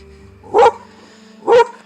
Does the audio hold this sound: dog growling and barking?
yes